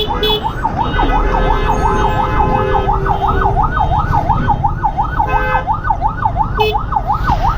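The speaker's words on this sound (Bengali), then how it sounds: "অ্যাম্বুলেন্সটাকে কেউ কোনো সাইডে দিচ্ছে না," An ambulance siren wails loud and close in jammed traffic near a bridge, its rapid rising-and-falling tone repeating steadily over engine rumble.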